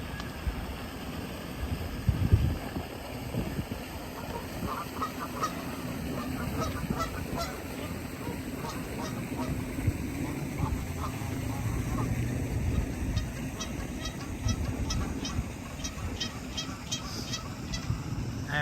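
Several geese honk repeatedly and agitatedly near a neighborhood footbridge as someone walks through, the calls rising in bursts over a steady outdoor rumble with no talk.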